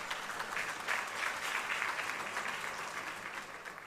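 An audience at a gala awards evening applauds in a dense, even patter of many hands, continuous and moderately distant throughout, with no clear speech over it.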